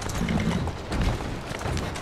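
Horse hooves in the video game Assassin's Creed Syndicate clip-clop in a steady walking rhythm, moderately loud over a dense rumbling background, with a soft neigh-like tone early on.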